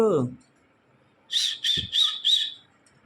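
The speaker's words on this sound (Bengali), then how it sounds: "আজ দেখাবো আমার ঘরে কত ধরনের ককটেল পাখি রয়েছে" A short burst of voice at the start, then four shrill, rapid cockatiel squawks in a row, close and loud, with a low thump between them.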